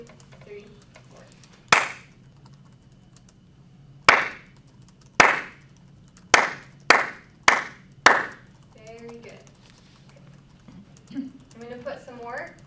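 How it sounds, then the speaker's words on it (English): A single student claps a rhythm alone in a classroom: seven crisp, close claps in an uneven pattern, followed by quiet room sound and faint voices near the end. "Does anyone want to clap it on their own?"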